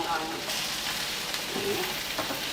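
Smoked grilled fish tipped into a hot pan with wilted aromatics for a village-style dish, giving a continuous close hiss and sizzle with faint stirring and no clear talk.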